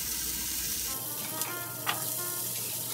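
Potatoes frying in hot oil in an oddly shaped pan give a steady, close sizzle with a couple of faint clinks over a constant crackling hiss.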